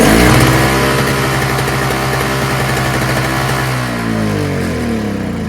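A Toro CCR2450 single-stage snowblower with a Briggs & Stratton R-Tek engine runs loud and close, a steady rough idle with a chugging low drone that settles slightly toward the end, no voices.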